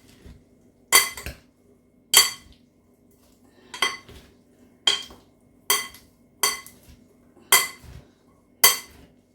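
A Mexican salad is tossed in a bowl with a utensil that knocks against the side, giving about eight crisp clinks at a fairly steady pace, close and clear, with no voices.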